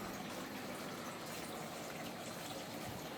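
Water pumps and gushes steadily during an aquarium water change, a faint, even, continuous rush of flowing liquid with no voices.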